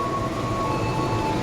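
A Pangrango line train hauled by CC 206 locomotive 1377 near Bogor station rumbles past in a brief, moderately loud passage, with a steady low drone and a faint sustained whine above it.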